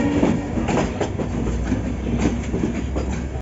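A passenger train pulling away from Anuradhapura in Sri Lanka gives a steady rumbling roll with rhythmic wheel clatter on the rails. It stays loud and continuous throughout, with no voices.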